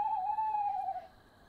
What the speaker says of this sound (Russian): Страшная сова, некрасивая